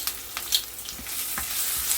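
Vegetables with noodles stir-frying in a hot pan, a steady close hiss and crackle of sizzling with soft scraping stirs throughout.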